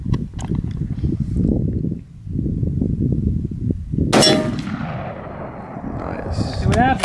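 Armor-penetrating 30-06 round fired at homemade armor, a sharp loud crack with a ringing metallic impact and decay, set against steady outdoor background and brief voices.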